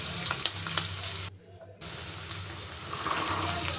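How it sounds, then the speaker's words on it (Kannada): Fresh green peas sizzle in a hot tempering in a pan for a methi and peas kurma, a continuous crackling hiss that drops away briefly in the middle and then resumes. "ಇದೆಲ್ಲ ಒಗ್ಗರಣೆಗೆ ಫ್ರೈ ಆಗ್ತಿದ್ದಾಗೆ ನಾನು ಬಟಾಣಿ ಹಾಕ್ಕೊಳ್ತೀನಿ."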